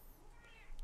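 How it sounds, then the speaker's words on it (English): Cats meow faintly in the background indoors, a short rising and falling cry heard at low level over room noise. "I think we're going to hear the cats in the background a lot throughout all of the recording."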